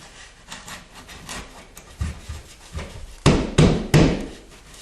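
A drywall patch scrapes and rubs as it is pushed into a hole in a sheetrock wall, a series of gritty sliding scrapes ending in three louder knocks and bumps, close by with no talk.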